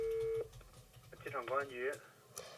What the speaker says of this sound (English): We are trying to call the Chinese phone number